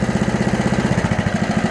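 A 1985 Mountfield M6 PowerDrive lawn mower engine idles steadily close by, its low chugging pulse beating in an even, rapid rhythm with no voices present.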